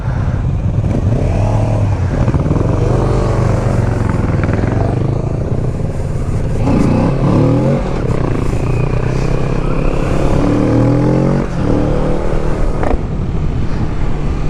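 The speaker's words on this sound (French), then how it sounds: "Allez Bibix, fais chauffer le moteur." A Kawasaki Ninja 400 motorcycle, fitted with an Akrapovič exhaust, warms up with a loud, gritty engine roar that swells into several revving pitch sweeps, close and continuous throughout.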